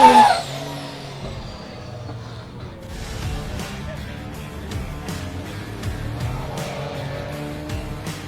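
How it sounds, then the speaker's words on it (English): A 630-horsepower drift car with a sequential gearbox runs around a small circuit at Meremere Drift Park, its engine roaring at a distance with repeated bursts and shifts under a commentator's voice. "This car is 630 horsepower, so there's a lot of herbs in this machine for a very small circuit."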